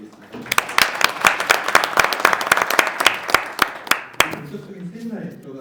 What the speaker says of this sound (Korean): 여러분의 박수 한번 부탁드리겠습니다